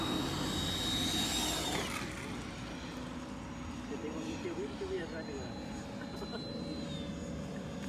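RC airplane on a 6S lipo battery coming in to land, a steady motor whine that sweeps in pitch as it passes, moderately loud over outdoor background.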